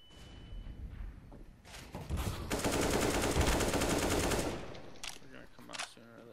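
Bursts of AK rifle fire in Counter-Strike, sustained and loud in the middle with sharper scattered shots around it and voices talking in between.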